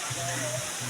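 Water tumbling from the Busay falls in Camburanan, Capiz, crashes into the pool below, making a steady broadband rush under a low voice.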